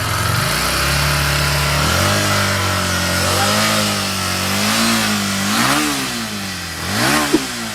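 Harley-Davidson Dyna Switchback V-twin with a loud aftermarket exhaust, revving steadily up and down close by for several seconds, the deep throaty note rising and falling with no talking.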